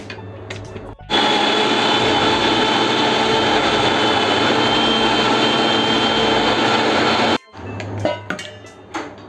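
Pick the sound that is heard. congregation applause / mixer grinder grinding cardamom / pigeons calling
mixer grinder grinding cardamom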